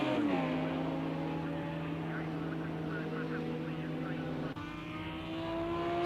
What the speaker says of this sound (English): we can get some lovely engine noises